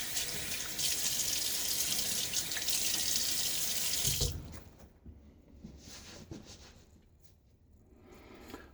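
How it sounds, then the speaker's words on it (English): A bathroom tap runs and splashes steadily into a sink for about four seconds as water is scooped onto a face before a wet shave, then cuts off, leaving quieter dripping and handling sounds. "Get a little water on my face."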